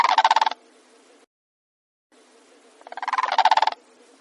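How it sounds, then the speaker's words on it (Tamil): Two bursts of a wading egret's rapid, harsh, pulsing screeching cry, each loud and alone, separated by a short silence and a faint hiss. "நீண்ட கால்கள் உள்ளது கொக்குகளாம், அது கத்தும் ஓசை கீச்சிடுதலாம்."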